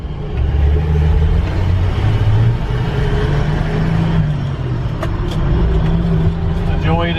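Steady low rumble from a 1968 Ford F250 pickup rolling along and slowing under braking, the engine and road noise loud and continuous throughout, with a few faint higher squeaks near the end.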